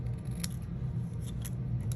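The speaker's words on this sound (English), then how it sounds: "I am just going to go ahead and cut that with my snips" Hand snips cut through a thin piece of chipboard for stacked die cuts, giving a few short, crisp snipping clicks over a steady low background hum, close and fairly quiet.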